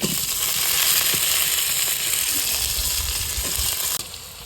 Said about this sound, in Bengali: এই যে পেঁয়াজ মরিচ রসুন সব তালা হয়ে গেছে, ডাল দিয়ে দেবো মুসুরির ডাল।